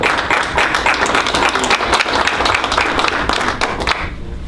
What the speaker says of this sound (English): So I think we owe everybody a round of applause